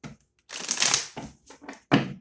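Brisk shuffling of a tarot card deck in short bursts, riffles and taps close up with brief pauses between, no voices.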